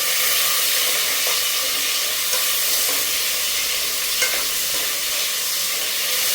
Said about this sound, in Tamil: கொஞ்சம் தக்காளி எல்லாம் வதங்கிடுச்சு